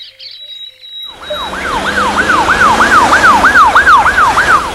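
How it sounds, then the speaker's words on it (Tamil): An ambulance siren wails in a steady, repeating up-and-down cycle, loud and close after a brief quiet start, with road traffic rumbling beneath it. "என்ன ஆம்புலன்ஸ் போகுது?"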